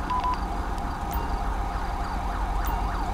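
An ambulance siren in Grand Theft Auto V wails steadily and loudly over constant engine and road rumble, its rising and falling tone repeating several times.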